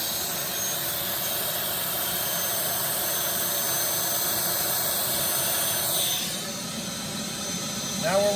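A Starwood turbine engine on a Lama helicopter idling after a hard start, a loud steady whine and rush that holds evenly, then eases slightly near the end as a faint rising tone appears.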